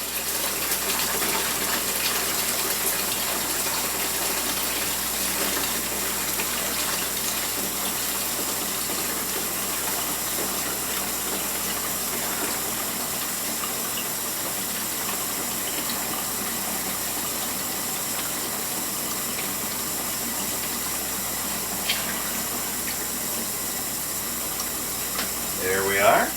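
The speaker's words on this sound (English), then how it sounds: "Now I pour from pretty high up, so that way the wort gets aerated." Beer wort for a Christmas ale is poured from high up to aerate it, a continuous loud gushing splash that holds steady for the whole stretch, with faint background noise.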